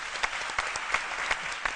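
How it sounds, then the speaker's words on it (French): Audience applause during a midday school program, a steady patter of many hands with a few sharper accented claps, moderately close and with no voices over it. "Et je pense que ça doit s'applaudir."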